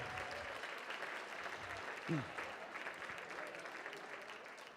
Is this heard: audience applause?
yes